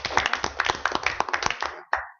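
Scattered hand clapping from a small group at a town council meeting, a couple of seconds of uneven claps that taper off, with one last clap after a brief pause.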